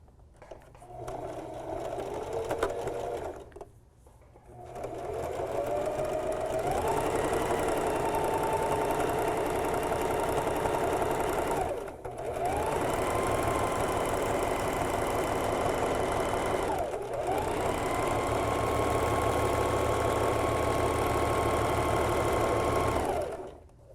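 A sewing machine runs a narrow zigzag or stretch stitch along a side seam of an upcycled tee, whirring steadily in long close bursts separated by brief pauses.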